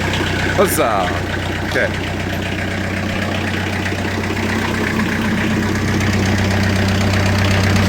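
A Timberking sawmill's diesel engine, preheated, cranks and catches, then settles into a steady knocking idle; a person speaks briefly near the start over the engine.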